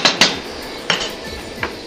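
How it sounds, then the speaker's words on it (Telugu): A metal lid is set on a cooking pot while a chicken curry with ripe chillies simmers. There are a few sharp clinks, two close together at the start and two more spaced out later, with a quiet kitchen in between. "ఇప్పుడు 1 నిమిషం మూత పెట్టేసేసి మగ్గనిచ్చేస్తే అయిపోతుంది."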